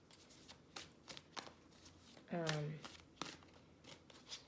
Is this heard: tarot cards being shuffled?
yes